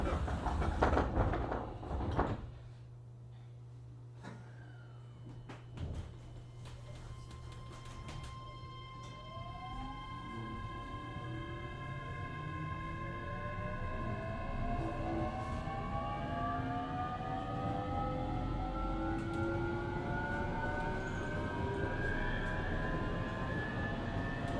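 A JR Kyushu 817 series local train pulls away and gathers speed, its rising motor whine sweeping upward in pitch over steady rumbling running noise, heard from inside the car after a few clunks at the start.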